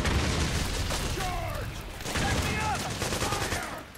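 Sustained video game gunfire from Metal Gear Solid 4: Guns of the Patriots, rattling volleys with heavier booms layered among them, loud and continuous, with faint game voices mixed underneath.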